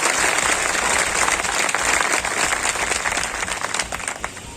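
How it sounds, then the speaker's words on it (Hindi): Loud, dense applause from a large crowd at an organisation's public gathering attended by thousands, a continuous roar of clapping that holds steady and eases slightly toward the end, with no talking over it. "एक बार जोरदार तालियों के साथ उनकी इस यात्रा का स्वागत करते हैं"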